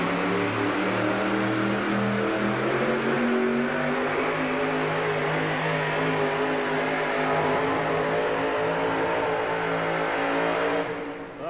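The Budweiser Boss pulling truck's engine roars at full power throughout a truck pull at a 1987 arena show in Tucson, a loud, sustained, strained drone that rises slightly in pitch before dropping off at the end.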